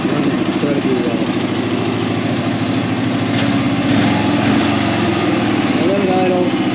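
An Arctic Cat Prowler utility vehicle idles with a steady, even mid-pitched engine rumble and a continuous throbbing pulse. It stays loud and close throughout, with no change in speed.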